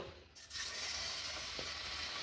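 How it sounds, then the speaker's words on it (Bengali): Sweet potato rasapuli dumplings fry in hot oil, giving a steady close sizzle that swells after a brief quieter start and carries on evenly, with no voices. "এবার আমি নেক্সট ব্যাচটাও ভেজে নেব।"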